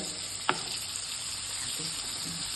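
Masala for a vermicelli biryani fries in a pan with a steady, close sizzle and one brief utensil tap.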